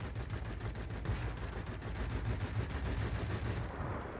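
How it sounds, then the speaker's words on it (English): Rapid, steady bursts of machine-gun fire from a Yak 19 fighter plane in a flight combat game, a continuous rattling stream at moderate volume with no voices. "Yes, I am shooting at long range,"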